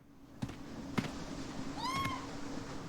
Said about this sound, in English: That does sound like a cat,